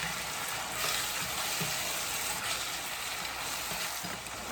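Palm oil stew fries in a pot with a steady, close sizzle and crackle throughout, ending with a sudden sharp clatter.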